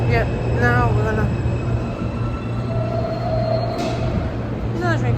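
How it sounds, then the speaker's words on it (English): A New York subway train arrives at the 8 Avenue & 14 Street station with a rumble, a steady low drone and high wheel squeals. The sound is loud and close, and talk can be heard in the background. "there's another train coming"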